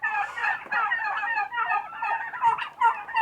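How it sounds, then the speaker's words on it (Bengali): Turkeys on a farm gobble in rapid, overlapping bursts, a close and fairly loud chorus of repeated warbling calls with no talk over it. "এই যে দেখতেছেন টার্কিগুলা"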